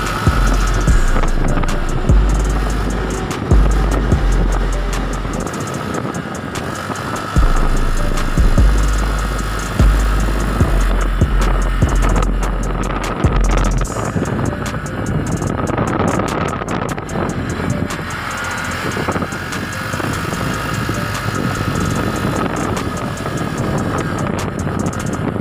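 Engine drone of a Honda Click Special Edition scooter on a long highway ride, a steady close hum mixed with wind rush and low rumbling bursts in the first half, continuous with no talking.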